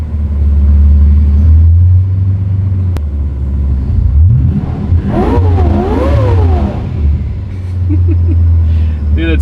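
V12 engine in a Toyota Supra revving on a ride, a loud deep rumbling idle that swells into a rising and falling rev, heard from inside the car with people talking over it.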